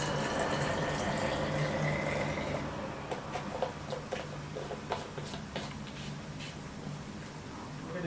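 Warm water is poured into a bottle for treating old Senegalese twists, a steady close gurgling fill that gives way to softer, scattered drips and splashes, with faint background hum.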